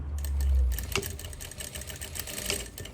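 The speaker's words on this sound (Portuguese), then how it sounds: "Com retrocesso, vou virar aqui e já aproveitar e costurar." A sewing machine backstitches a label onto a tailored skirt, its needle running in a steady rapid chatter with brief changes in pace, close and alone without talk.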